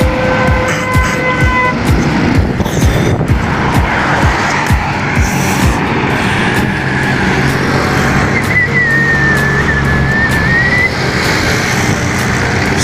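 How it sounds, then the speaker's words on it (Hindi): Heavy road traffic on a cold foggy morning in Lahore, a steady loud wash of passing cars and engines with a brief tire squeal midway and no talk. "ये ट्रैफिक बहुत ज़्यादा है।"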